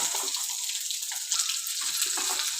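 Garlic, ginger and onions sauté in a pan over a low flame for mutton curry, making a continuous close hissing sizzle with light crackles throughout and no voices.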